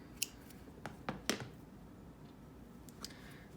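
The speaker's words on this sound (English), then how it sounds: "So now you will just cut your yarn" Scissors snip through crochet yarn in a few quiet, sharp clicks spaced over a couple of seconds, close up with no talk.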